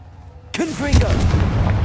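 A Confringo blasting spell in the video game Hogwarts Legacy bursts in suddenly halfway through, a loud booming impact with a rumbling tail, alongside a short vocal shout.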